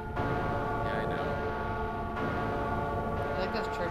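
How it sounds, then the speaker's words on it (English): Church bells ring out in the Silent Hill 3 video game, a sustained metallic toll layered over rumbling ambience while people chat over it. "You like those church bell sound effects again now?"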